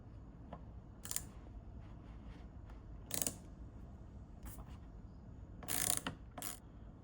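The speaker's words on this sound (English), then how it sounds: "should be able to undo these 2 nuts" A wrench undoes the two nuts on the speedometer mounting bolts of a DeLorean dashboard, giving faint, scattered ratcheting clicks and small metallic ticks in bursts over a quiet background.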